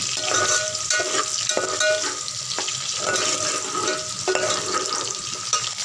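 Onions browning in a pan with ground ginger, garlic, tomato and spices, a steady loud sizzle with bursts of crackle and spatter, punctuated by occasional scraping stirs, close and without speech.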